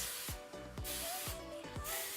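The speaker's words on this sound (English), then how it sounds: "I'm just going to spray a little bit." Several short hissing bursts from an aerosol hairspray can sprayed onto hair, close by, in quick succession over a couple of seconds.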